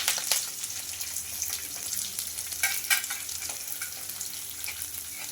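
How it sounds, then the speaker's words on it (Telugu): Chopped onions and curry leaves frying in hot oil in a pan with mustard seeds, a steady close sizzle crackling throughout, with faint stirring and scraping and no talking. "ఇవన్నీ బాగా కొంచెం ఫ్రై అయిన తర్వాత అయితే ఇందులోకి చిన్నగా కట్ చేసుకున్న ఆనియన్స్ అలాగే కరివేపాకు"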